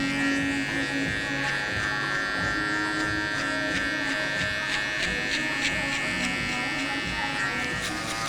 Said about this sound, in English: I'm taking the foil shaver, I'm just kind of flicking it out because I refaded him, but now I'm going back in and detailing it